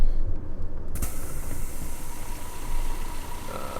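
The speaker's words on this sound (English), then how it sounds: "I'm not going to turn off the engine for this one." Coach bus engine idling in Fernbus Coach Simulator, a steady low mechanical rumble with faint rattling and creaks, and a brief click near the start.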